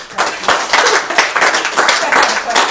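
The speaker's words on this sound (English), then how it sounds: "Give a round of applause." A short burst of clapping from a small group, sharp repeated hand claps over a few seconds with some murmuring mixed in.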